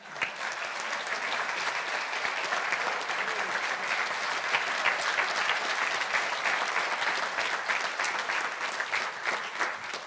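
Applause from a church congregation for students receiving academic awards, a dense, steady round of clapping that carries evenly across the whole span at moderate volume.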